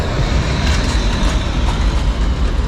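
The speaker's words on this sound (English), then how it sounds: "We also have these trams that run through the middle of town." A tram runs through Zagreb's city centre in the lower town, a loud, steady rolling rumble with a faint metallic rattle that holds for the whole moment without any voices.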